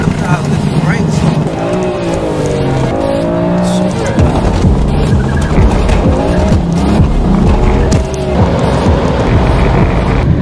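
A sports car brakes hard with screeching tire squeal and a roaring engine, loud and close, while someone talks over it.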